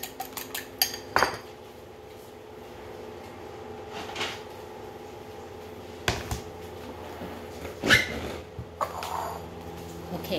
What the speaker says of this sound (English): what we have to do is go ahead and mix the egg